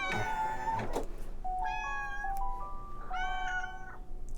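A cat meows several times, with drawn-out, rising-and-falling calls in short bursts over a low steady background hum, close to the microphone and with no talking.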